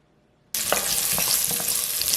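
Garlic sizzles in hot olive oil in a pot for tomato soup. A crackling, hissing fry starts abruptly after a brief silence and continues steadily, loud and close, with small pops and stirring scrapes.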